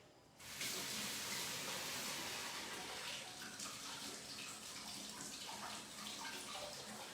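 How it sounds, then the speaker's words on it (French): Steady rush of running water as hair dye gets rinsed out, a full hiss that starts abruptly and keeps going without a break, close and fairly loud with no voices. "Je la passe à l'eau tout simplement."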